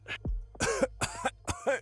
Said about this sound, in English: He coughs harshly, covering his mouth and nose.